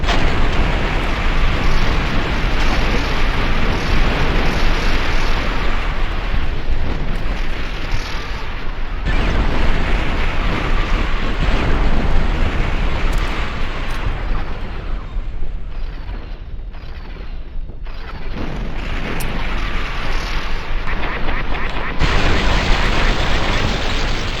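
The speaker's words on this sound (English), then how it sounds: "Look at that explosion." Explosions and heavy combat blasts in the post-apocalyptic shooter game Fallout: New Vegas, a sustained loud roaring rumble lasting throughout with dips and surges, dense and close.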